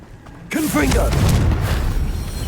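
A Confringo fire spell from Hogwarts Legacy bursts in with a sudden loud boom, followed by a rumbling, crackling blast that stays heavy for a couple of seconds, with a voice briefly heard.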